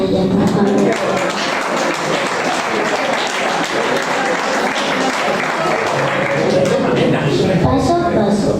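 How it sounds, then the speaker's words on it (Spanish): Audience applauding a poet at a poetry reading: loud, sustained clapping from a room of people, steady and close throughout. "Un aplauso para ella, por favor."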